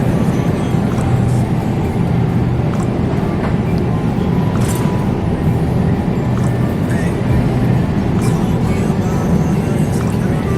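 Steady engine and road rumble from inside a moving car heading to a grocery store, a loud, even low drone throughout with one faint brief tap and no talking.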